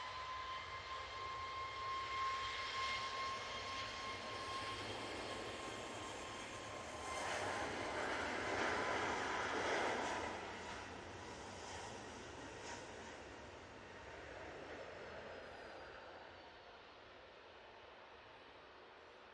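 A Ryanair Boeing 737 Max 8 takes off at Manchester Airport, its engines a broad rushing roar that swells and peaks midway and then slowly recedes into the distance, heard from afar with no voices.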